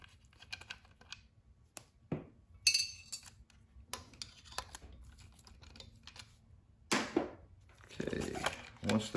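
Two screws come out of a bracket inside an E/One grinder pump: sparse, quiet clicks and light metallic clinks in short bursts, with pauses between them.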